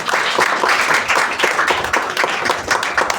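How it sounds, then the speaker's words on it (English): A comedy club audience claps after a stand-up set, fairly loud and near, with a dense, uneven patter of many hands whose intensity swells and dips throughout. "Clap"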